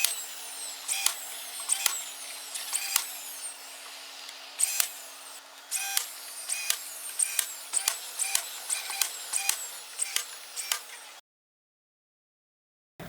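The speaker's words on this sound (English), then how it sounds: "I'm going to hold my spacer up while I do my brad nailing." A brad nailer drives nails into a wooden platform inside a tool cabinet, each shot a sharp close snap repeated at a steady, fairly even pace about a dozen times, then silence.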